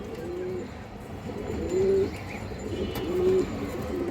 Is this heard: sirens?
no